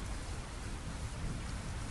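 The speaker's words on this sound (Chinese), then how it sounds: "一波又一波无情又猛烈的雨势并没有停下" Heavy rain pours in a dense, unbroken hiss, loud and close, with no voices over the downpour.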